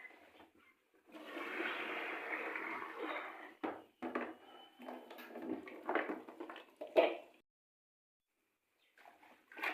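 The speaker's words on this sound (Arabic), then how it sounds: "غادي نديرو يقطر في الشبكه، ونبدل هذا الماء حتى يصفى الماء مزيان" Water runs and splashes in short bursts while it is changed and poured through a colander to rinse chopped herbs, with clinks of a metal bowl and pauses of near silence between the pours.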